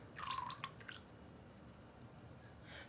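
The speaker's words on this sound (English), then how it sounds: "We're gonna pour our lye solution into our oils." A lye solution is poured into soap-making oils in a bowl, a brief, soft, wet trickle and splash up close that fades to quiet after about a second, with a faint rustle at the end.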